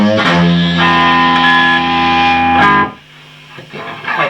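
An electric guitar played through an Orange Matamp amplifier with a boost pedal adding drive, loud sustained distorted chords ringing out, then cutting off into quieter picked notes.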